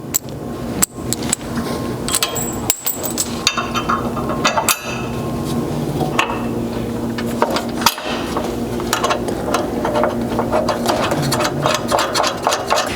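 Hex head bolts with washers and serrated flange nuts are fitted by hand to a steel rock slider on a 5th gen Toyota 4Runner, giving scattered close metallic clinks and rattles over a busy workshop background.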